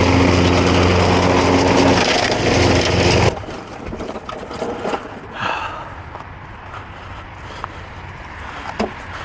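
A lawn mower engine roars loudly while cutting grass on a hill beside a wall, then drops sharply to a quieter idle with scattered knocks and rustles.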